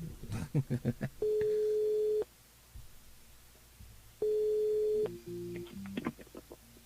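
A telephone rings during a French-language radio call-in show, two long steady tones separated by a pause, followed by shorter electronic beeps, with brief broadcast sounds before and after.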